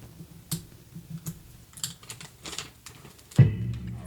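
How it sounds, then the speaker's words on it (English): Protective film is peeled from the front screen of a rugged plastic tablet, giving faint crackling and ticking sounds in short bursts, with one louder peel near the end, close up and without talk. "Let's get this film off the front of it here."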